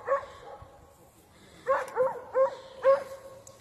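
A stray dog barks outdoors near a zoo area: one bark, a pause, then four more sharp barks in quick succession, moderately close with some faint background noise.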